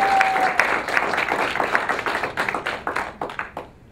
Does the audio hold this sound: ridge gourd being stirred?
no